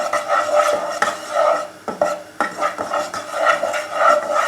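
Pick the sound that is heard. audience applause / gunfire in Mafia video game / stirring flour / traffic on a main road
stirring flour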